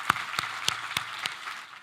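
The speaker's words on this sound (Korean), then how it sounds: "우리 하나님께 감사의 박수를 드리겠습니다." A church congregation in a Korean worship service claps in thanks, the sharp, evenly spaced claps ringing out about every third of a second, close and clear with no talking.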